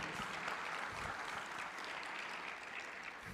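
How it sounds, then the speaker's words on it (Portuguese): Audience at a church panel on engaging young people with the Bible gives a steady, full round of applause that stays dense and even throughout, with no voice over it. "Uma salva de palmas para eles"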